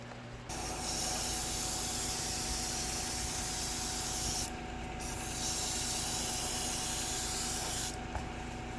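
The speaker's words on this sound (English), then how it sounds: "I'm going to spray some of the earth tones" A spray can hisses in two long continuous bursts with a brief pause between, steady and close, painting earth tones on a Tamiya M8 Greyhound scale model.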